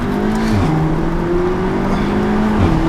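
A four-wheel-drive Audi S3 saloon with 306 horsepower accelerates hard, its engine note climbing steadily and dipping briefly at gear shifts, loud and close with no talking.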